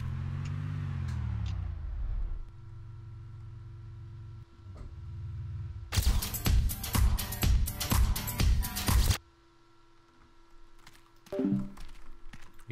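A vehicle engine hums in Arma 2, starting with a rising and falling drone, then a steady idle, a burst of dense rattling bangs in the middle, and a quieter tonal hum afterward.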